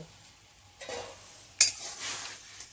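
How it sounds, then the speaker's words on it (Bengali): Rice flour stirred into salted boiling water in a pot for kuli pitha, giving soft scraping swirls and one sharp metallic clink of the spoon against the pot, quiet and close with no talking. "ফুটন্ত জলে দিয়ে দিতে হয় এরকম ভালো করে নেড়ে নিতে হবে"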